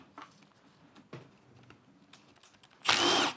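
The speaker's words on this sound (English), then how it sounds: "Now we can go ahead and remove the 10mm fasteners from the timing cover." A power tool loosens 10mm fasteners on a Subaru timing cover during an engine teardown. After quiet handling noises, a loud, close whirring burst lasts about half a second.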